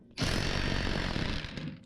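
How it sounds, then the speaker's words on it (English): A Sawzall reciprocating saw bites into Jeep Wrangler TJ rear suspension parts, a short, loud, rapid rattling burst of under two seconds, close by and without talk. "break out the Sawzall already"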